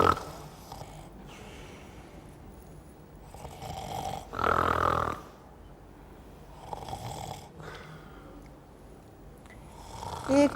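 Someone snores in long, rough, rumbling breaths during a live comedy and music lounge show, with one especially loud, snorting snore partway through. Softer breathy snores come before and after it.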